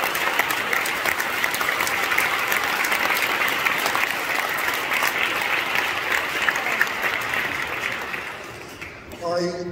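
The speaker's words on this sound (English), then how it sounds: "A big round of applause for Miss Wiki." A school prom audience breaks into sustained, loud applause that fills the room with steady clapping, easing off near the end as a voice briefly comes in.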